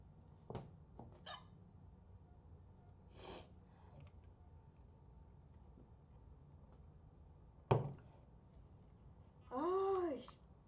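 Hiccups while playing Bendy and the Ink Machine, heard as several isolated short, sharp bursts spread across a quiet stretch, followed by a brief voiced sound near the end.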